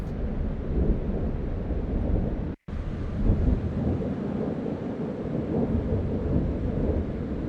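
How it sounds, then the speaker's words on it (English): Thunder rolls through an outdoor field recording as a sustained loud rumble, broken by one brief dropout and then continuing unabated, with wind and rain-like noise underneath and no voices. "I do have better recordings of thunder"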